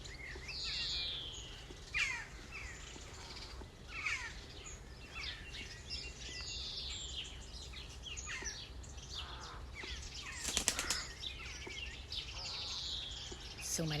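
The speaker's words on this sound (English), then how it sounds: "So many birds flying around." Birds calling across a meadow on a walk, crow-like caws and chirps scattered over a low constant background rumble, mostly distant, with a brief rustling burst near the end.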